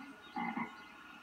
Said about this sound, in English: Do you hear a frog?